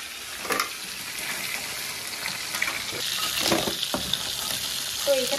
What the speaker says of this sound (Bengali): চলো এটা আমার ভাজা হয়ে গেছে, দেখো কত সুন্দর ভাজা হয়েছে, আর লাল লাল হয়ে গেছে।